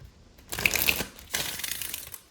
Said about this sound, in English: Alright, I need 3 more shuffles for Virgo.